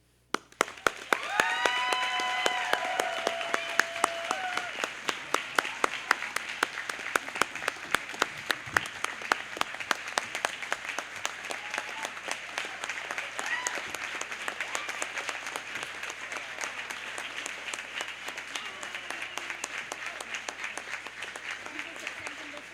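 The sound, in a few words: graduation audience applauding the faculty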